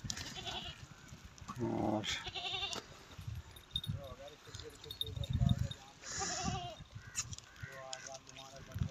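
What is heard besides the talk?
Beetal goat bleating on a goat farm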